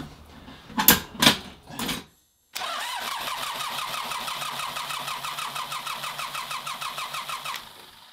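A John Deere 1050 tractor's Yanmar diesel engine cranks in a few loud bursts, pauses, then catches and runs with a rapid, steady chugging beat before cutting off near the end.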